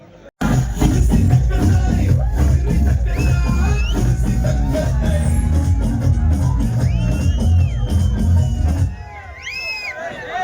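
A lively crowd at a grand village function in Maradahalli, K.R. Pete taluk, Mandya district, claps and cheers loudly and steadily for Pradeep, with shouts and whoops throughout, then the noise drops off sharply near the end.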